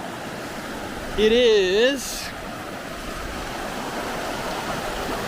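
A river flows steadily beside a lunch spot in Banff National Park, a constant broad rushing wash that fills the whole clip, with a brief spoken voice on top near the start.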